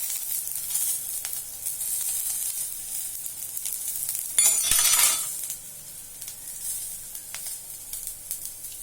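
Green chillies frying in oil in a pan for vegetable soup, a steady bright sizzle throughout that swells into a louder, harsher burst midway before settling back to a lighter crackle.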